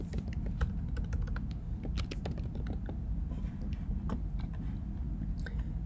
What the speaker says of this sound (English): let's type in Baron